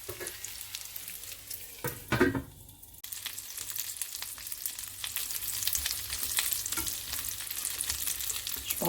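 Seafood frying in a pan, a steady close sizzle with stirring scrapes and a clatter of a utensil early on, continuing alone without talk.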